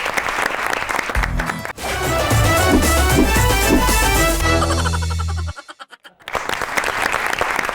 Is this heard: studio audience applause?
yes